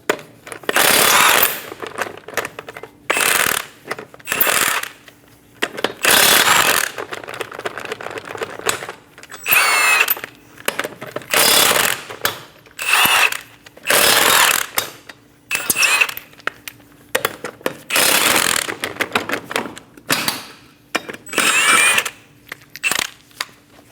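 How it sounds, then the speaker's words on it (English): Five lug nuts come off a 2008-2015 Scion xB front wheel with a 21mm socket, heard as a string of loud, harsh, rattling power-tool bursts separated by short pauses, with no talking. "Using a 21mm socket, remove the 5 lug nuts."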